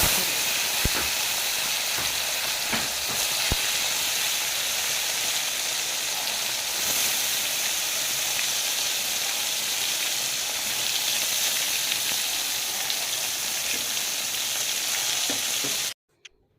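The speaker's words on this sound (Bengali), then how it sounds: "তাই আগে বেগুনটাই ভেজে নিচ্ছি।" Brinjal slices deep-frying in hot oil, a steady loud sizzle and hiss with a few light clicks of a utensil, running continuously before cutting off abruptly near the end.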